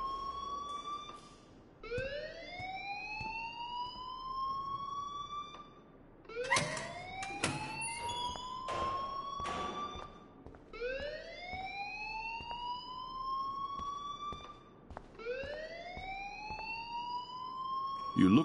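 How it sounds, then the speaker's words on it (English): A school alarm in the video game Life is Strange wails in repeated rising siren sweeps, five cycles separated by short gaps, loud and insistent throughout. "please turn off that alarm since that's your job"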